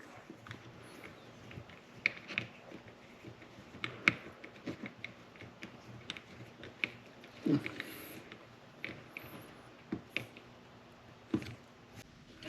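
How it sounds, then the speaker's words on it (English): Small parts of an Okuma Coldwater fishing reel's drag being screwed down by hand, with irregular light clicks, taps and ticks of metal and tool, close and quiet, with pauses between. "Screwing this down."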